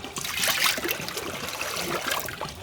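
Squeezed tamarind water, meant for pani puri, pours and splashes into a vessel, a steady close trickling stream that swells and eases slightly.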